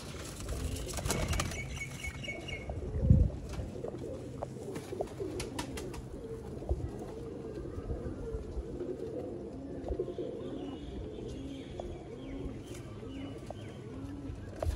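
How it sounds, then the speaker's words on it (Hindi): Sialkoti rooftop pigeons coo in steady, soft rounds nearby, with a brief flutter of wings and faint background noise throughout. "सियालकोटी दोस्तों छत वाले कबूतर"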